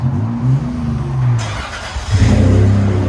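From inside a third-generation Toyota 4Runner with a 3.4L V6 and a Flowmaster 40 Series exhaust, a deep exhaust rumble idles and then swells into a loud rev, muffled by the cabin.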